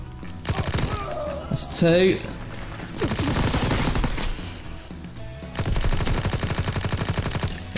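Rapid bursts of automatic gunfire in Call of Duty WWII, loud and close, rattling in several long volleys separated by short pauses, with a player's voice talking briefly between them.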